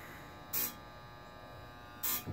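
Flash Technology FTB-205 high-intensity obstruction light in night mode, a faint constant electrical hum with two short, bright buzzing bursts about a second and a half apart as it fires.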